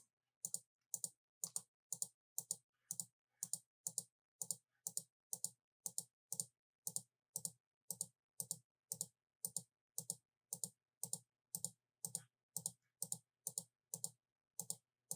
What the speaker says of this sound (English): I do apologize if you guys are hearing the clicking.